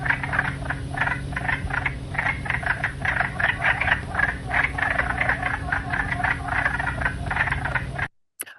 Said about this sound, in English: So let's listen to the wood frog.